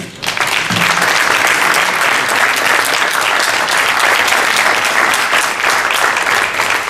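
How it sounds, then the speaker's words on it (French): An audience at a French community council meeting breaks into sustained, loud applause, dense clapping holding steady for several seconds with a brief voice near the start. "je vous invite, chers collègues, à les applaudir"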